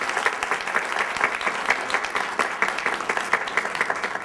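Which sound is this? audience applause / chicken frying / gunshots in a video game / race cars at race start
audience applause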